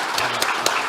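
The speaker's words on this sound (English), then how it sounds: "A round of applause before we vote." A few scattered hand claps ring out from an audience after a medical debate speech, four or five distinct sharp claps over a faint background hum in about a second.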